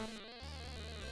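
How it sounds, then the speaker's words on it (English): Bees in the video game Armaeth: The Lost Kingdom give off a sustained buzz, close and steady, blended with droning game music and no speech. "The bees are busy with the bear."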